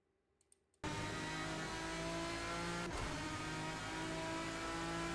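Aston Martin DBR9 race car in a racing game at Misano World Circuit, a few faint clicks then the engine bursts in at full throttle, a loud sustained roaring drone with a brief shift dip midway, no talking.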